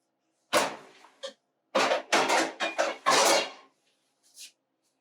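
A pot of homemade baked beans is set into an oven with a run of close wooden and metallic clunks, scrapes and rattles in short bursts, then quiet and a faint final knock.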